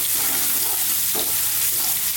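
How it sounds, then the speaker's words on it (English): Steady, close sizzling of beef stir-frying in a hot pan, a continuous crackling hiss with a brief stirring scrape partway through. "we're going to fry our beef for a few minutes"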